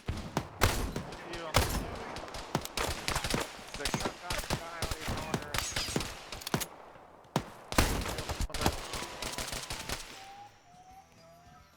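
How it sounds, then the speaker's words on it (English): Shotgun fire in a tactical shooter game, with loud sharp blasts in irregular bursts, some in quick succession and some spaced apart, mixed with other gunfire and game sounds before fading to quiet radio-like tones at the end. "You gotta love shotguns."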